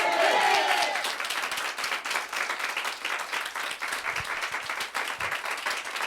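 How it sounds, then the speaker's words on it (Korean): Church congregation clapping together to glorify God during a Sunday morning service, a steady, fairly loud wash of applause lasting throughout, with a sung or spoken voice briefly audible at the start. "우리 하나님께 박수로 영광 돌리겠습니다."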